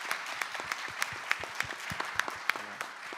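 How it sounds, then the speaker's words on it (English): A small seminar audience claps for panelists at a Korea–Singapore future mobility seminar, sparse and distinct hand claps at a fairly quiet, uneven rhythm, with a faint voice briefly underneath. "give them a round of applause"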